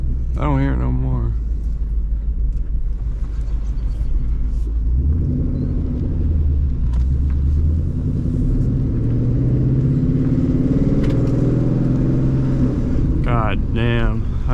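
Low, steady engine rumble from a Ford Mustang being driven, loud and continuous throughout with a slight swell in the middle, and a voice briefly at the start and end.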